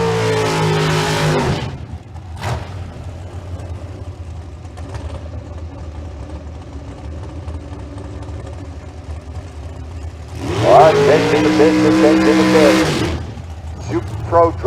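Drag race cars launch down the Famoso dragstrip at a bracket race, a loud roaring burst at the start and another swelling pass near the end, with a PA announcer talking through the quieter stretch between.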